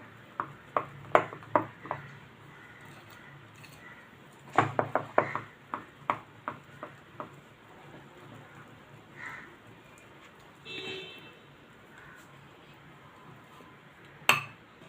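Eggless vanilla cupcake batter being mixed in a bowl, with clusters of light clinks and taps from a utensil striking the bowl, some in quick runs and others spaced apart, with quiet pauses between and no talk.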